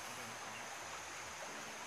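A river stream flows beside a megalithic statue site in the Bada Valley, West Lore, a steady, even rush of water with no breaks.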